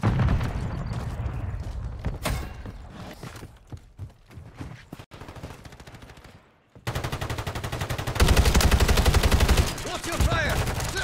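Call of Duty Modern Warfare 3 multiplayer gunfire, with scattered shots and bursts building into loud, continuous rapid automatic fire in the second half and mechanical clatter mixed in.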